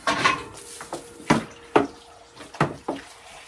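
Water splashes and spills in a series of irregular, close sloshes and drips, as though from an overflowing tap, about seven distinct bursts over a soft running hiss with no voices.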